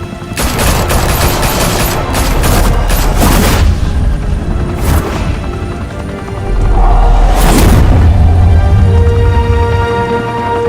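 Heavy gunfire rages in a Batman Telltale game scene, with dense automatic bursts, booms and loud rolling impacts filling the whole stretch, swelling and easing in waves with no pause.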